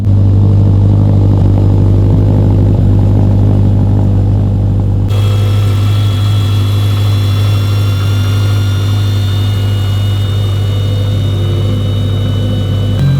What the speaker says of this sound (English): This turbo is so loud. It sounds so good.